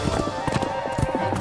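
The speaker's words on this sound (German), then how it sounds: "Er löste das Geschirr, ließ die Kutsche zurück und galoppierte hinter dem Mann her." Galloping horse hooves as an audio drama effect, a quick, rapid clip-clop pounding close and fairly loud, with an occasional whinny-like edge and no talk over it.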